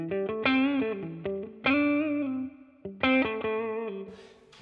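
Clean electric guitar through a Laney Cub 12 combo amp, playing strummed chords and picked notes, bright and sustained with a touch of reverb, no vocals.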